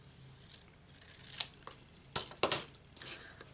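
Scissors snip through a piece of card in a few short, crisp cuts with light papery rustling between them, close and fairly quiet.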